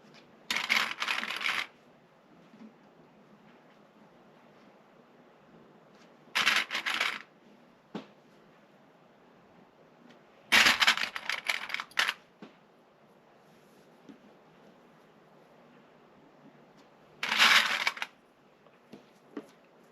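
Sewing pins pushed through layered fabric and a zipper while lining up a zipper pouch, heard as four separate bursts of crisp rustling and clicking, close and fairly loud, with quiet pauses between them.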